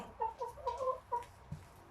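Several soft clucks from laying hens come in a quick, uneven series, close and fairly quiet, with a low thump after them.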